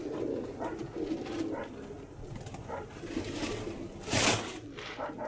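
Several Savvidakia pigeons coo softly and repeatedly outdoors on Santorini, their low murmurs overlapping, with a brief burst of wing flutter partway through.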